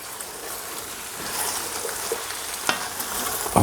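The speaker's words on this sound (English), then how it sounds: "Mix the potatoes in with the veal." Potatoes stirred into a veal stew, a soft wet scraping and sizzling churn with a few sharper clinks near the end, close and steady.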